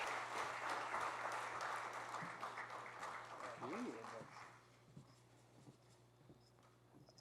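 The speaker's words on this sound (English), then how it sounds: "Another round of applause for Friendship Place." Applause at an anniversary gala fades from a full round of clapping into scattered claps and room noise, with a voice speaking briefly over the dying applause.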